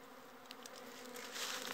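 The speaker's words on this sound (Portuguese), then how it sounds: "tirando uma abelha italiana" Italian honeybees buzz around a fallen tree trunk in the woods, a faint continuous droning hum that swells slightly toward the end, with no talking.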